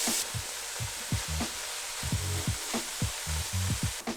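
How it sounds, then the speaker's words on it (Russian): Vegetables sautéing in a pan for a soup with cheese balls, a steady close sizzle broken by repeated scraping knocks of stirring at an uneven rhythm. "Пассируем наши овощи."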